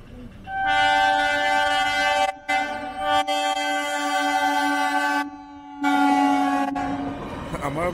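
A train blows its horn while passing a small railway level crossing, a loud, close, sustained tonal blast in several long bursts with brief gaps, over the rolling rumble of the rail cars.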